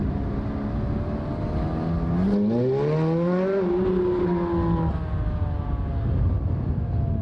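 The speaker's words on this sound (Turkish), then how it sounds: "Hayatımda ilk defa kabriyo arabadayım." A Ferrari convertible drives along with the top down, its engine note climbing and sweeping upward in pitch over steady road and wind roar, loud and close throughout.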